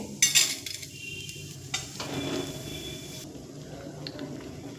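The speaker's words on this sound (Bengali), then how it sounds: "ডাল আমি লাল করে ভেজে নিয়েছি এবার একটি পাত্রে তুলে নেব" Fried mung dal being scooped from a pan into a bowl gives a few sharp metal scrapes and clinks over a soft background hiss, close and fairly quiet.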